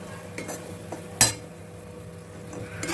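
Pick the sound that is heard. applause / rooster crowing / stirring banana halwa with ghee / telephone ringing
stirring banana halwa with ghee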